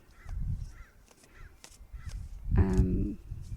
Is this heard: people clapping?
no